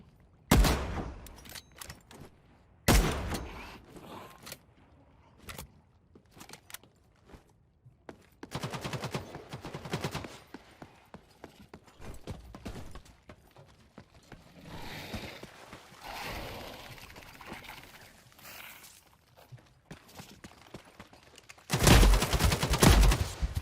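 Shotgun blasts in the video game The Cycle: Frontier, several sharp loud reports separated by quiet gaps, with a heavy burst of rapid fire at the end.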